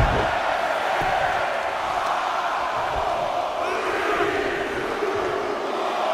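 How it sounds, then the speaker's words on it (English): Video game wrestling crowd in a WWE 2K22 NXT Royal Rumble arena, a dense, continuous roar of many voices chanting together in a big hall. "Listen to this crowd count the next one in."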